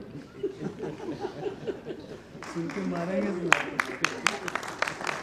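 Sparse, scattered clapping from a small audience at a talk, preceded by murmuring voices and light chuckles; the claps come as separate, uneven hits over a low room hum.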